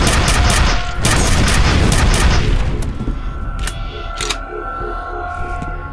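Heavy rocket blasts and rapid weapon fire from the shooter game F.E.A.R. hammer away loudly for the first few seconds, then give way to scattered sharp reports and lingering rumble.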